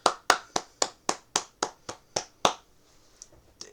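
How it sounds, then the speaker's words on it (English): Roughly ten sharp, evenly spaced hand claps from a single person, crisp and close, each decaying quickly, followed by a pause and a couple of fainter taps. "Can we get another round of applause?"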